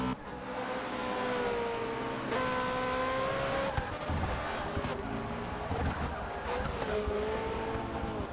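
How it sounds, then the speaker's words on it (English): V8 Supercars race cars roar past a trackside timing car in a continuous stream, engines droning and shifting pitch as each passes close, with loud, sustained engine noise throughout. "as these cars go by our timing car"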